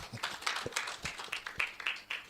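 An audience at a research conference applauds a keynote speaker with light, scattered clapping, fairly quiet and at a moderate distance in the hall.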